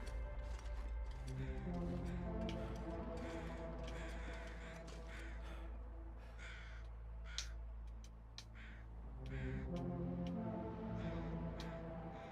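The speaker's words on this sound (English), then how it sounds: "I can kind of sort of hear crows" Crows caw repeatedly in a game environment near an abandoned airfield, with sharp, irregular calls at a moderate distance over a steady background drone.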